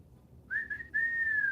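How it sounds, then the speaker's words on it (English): Cosmo the parrot gives a clear, pure celebration whistle: a short rising note, a brief break, then a longer sustained tone that slowly drifts, close and loud over quiet room noise. "There's her celebration whistle."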